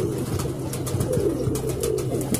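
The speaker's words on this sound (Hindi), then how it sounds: "काफ़ी कबूतर ही कबूतर इकट्ठे हुए हैं" Several pigeons coo in soft, overlapping throaty calls, close by and steady, with light rustling and chatter in the background.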